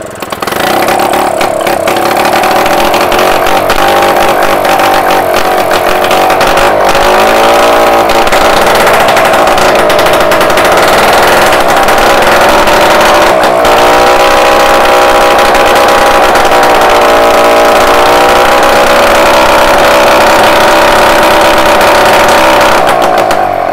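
A Solex moped engine, just back in working order after its fuel lines were cleaned, runs steadily and loudly up close, its buzzing note rising and falling slightly in pitch over about 24 seconds.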